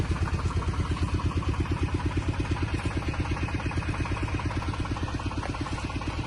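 An auto rickshaw engine runs with a fast, even, throbbing chug, close and steady throughout with no other sounds on top.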